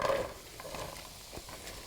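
Hand-chopped onions stirred into a masala gravy, a soft mushy sizzle with faint scraping stirs, quiet and close throughout.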